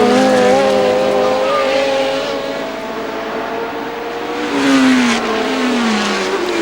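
Formula One race cars, including a Lotus 72, racing at the 1970 British Grand Prix, engines screaming loud and close, with rising and falling pitch as cars pass along a fast straight.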